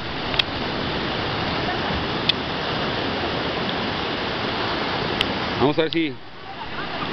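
Broadband ocean surf and wave wash at sea during a fishing trip for a large red snapper, roaring steadily and close, with a brief voice near the end as the swell drops away.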